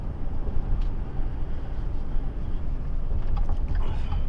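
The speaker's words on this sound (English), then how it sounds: "I get a little bit of wind noise in here" Wind noise inside a pre-runner truck cruising near freeway speed, a low rumbling roar with buffeting and faint rattles, steady throughout with no talk.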